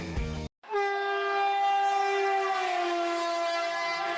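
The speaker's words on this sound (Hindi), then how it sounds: "रेल का इंजन प्यारा प्यारा, छुक छुक छुक करने वाला, जोर से सीटी देता है" A loud, sustained train whistle or horn holds for several seconds inside a children's poem about a railway engine. It follows a short stretch of sung music.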